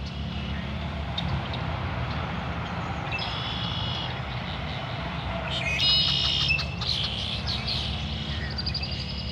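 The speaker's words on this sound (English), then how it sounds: "You can hear the birds." Birds chirp in a downtown park in Kalamazoo, scattered high tweets over a steady rumble of distant traffic and path construction work, growing busier toward the end.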